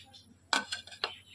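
A spoon clinks and scrapes against a bowl while black salt, chaat masala and arrowroot powder are stirred together, three distinct bright taps over quiet background hum.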